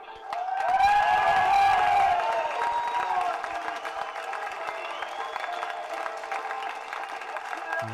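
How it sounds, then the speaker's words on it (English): Spectators at a Highland League Cup football final applaud the cup winners, a sustained wash of clapping and crowd noise, loudest early and easing to a steady patter. A voice is heard over the start. "could you give your applause to the GPH Builders Merchant Highland League Cup winners"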